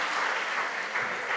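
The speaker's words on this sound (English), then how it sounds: "A round of applause for him." Audience applause at a national junior science and maths quiz championship, a steady wash of clapping heard alone for a brief moment.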